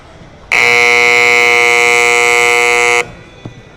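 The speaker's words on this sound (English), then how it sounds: "there's a little buzzer went off for us" A loud electronic buzzer at a high school football stadium blares in one steady, unbroken tone for about two and a half seconds during a live scrimmage, then cuts off abruptly, leaving quiet ambience.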